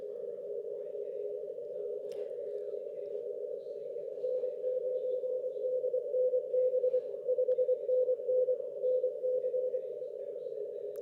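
A weak CW Morse code signal comes through an Elecraft K4 transceiver as a steady, faint tone over the receiver's background hiss, keyed in short bursts that grow more distinct toward the end.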